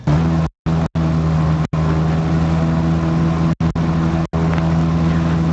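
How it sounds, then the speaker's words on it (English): Steady droning aircraft engine noise from a flight simulator on the VATSIM network, a constant loud hum with several brief dropouts to silence. "I might even chuck some engine sound on for you guys"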